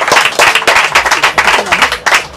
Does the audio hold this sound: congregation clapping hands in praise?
yes